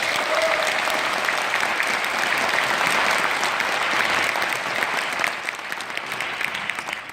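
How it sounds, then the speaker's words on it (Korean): A crowd at a Democratic Party political concert in Jeonju breaks into loud, sustained applause, thick continuous clapping that stays strong before tapering slightly near the end. "김종인 위원장에게 돌을 던지시겠습니까? 박수를 던지시겠습니까?"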